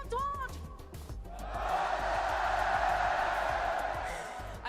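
A large arena crowd at the Fortnite FNCS Global Championship 2025 finals roars and cheers, swelling after a second into a sustained, loud wash of voices, with a commentator talking over it.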